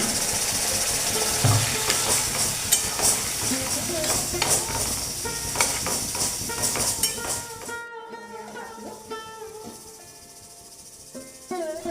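Hot water goes into a pan of bottle gourd and bitter gourd shukto curry, setting off a loud hissing sizzle that suddenly drops to softer bubbling and clinks as the pan settles.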